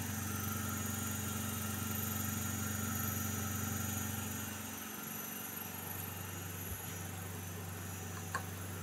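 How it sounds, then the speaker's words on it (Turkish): An AC induction motor runs steadily in an electric-vehicle training rig, giving a continuous mechanical hum with a faint whine that eases slightly partway through, with no voices. "alternatif akım indüksiyonu ile motorun çalışmasını görüyorum"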